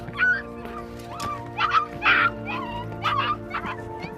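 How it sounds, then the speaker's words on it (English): A mother dog stranded with her puppy in a flooded pit whimpers and yips in repeated high, pleading cries, close and distinct, against a faint background hum. "They decided to check and saw this poor dog with a puppy."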